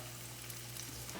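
Lake trout pan-frying in a frying pan gives a steady, dense sizzle that runs unbroken and close throughout, with no voices.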